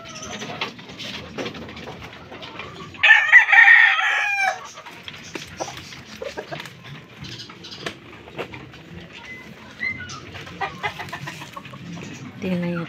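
A fighting rooster crows once loudly and up close, amid a stretch of clucking and other farmyard fowl sounds, with people talking nearby.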